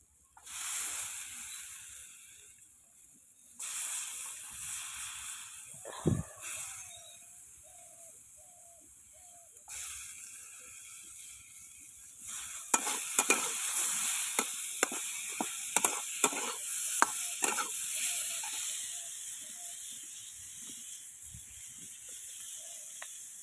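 Onion dropped into hot oil with turmeric and salt, hissing and sizzling steadily, with a sudden burst near the middle and a run of sharp scraping stir strokes toward the end.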